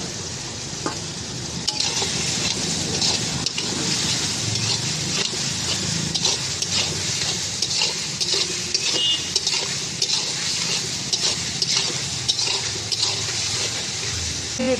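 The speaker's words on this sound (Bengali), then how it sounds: "এবার আমার হাফ ভেজে রাখা চিংড়ি মাছটা দিয়ে দেবো" Half-fried prawns hit hot oil in a pan, raising a loud, close, continuous sizzle with crackles and stirring scrapes that keep going throughout.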